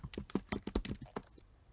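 Rapid typing on a computer keyboard while filling in a district email and review reason, a close, uneven run of about a dozen crisp key clicks that stops abruptly, with no voices.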